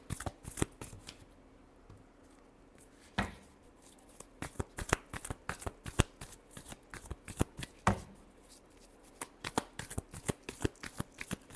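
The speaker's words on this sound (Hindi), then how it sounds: "last shuffle" Playing cards are shuffled by hand, close and fairly quiet, in quick riffling bursts of crisp slaps and flutters, with a couple of sharper snaps and short gaps between rounds.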